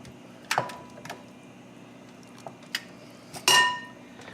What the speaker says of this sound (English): So I'm going to put these bones in here.